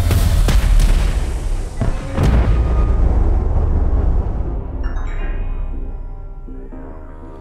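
Heavy missile explosions in the VRChat game Fate Of The Irrbloss, several deep booms and sharp cracks rolling together in the first seconds, then a long rumbling decay with faint ringing tones.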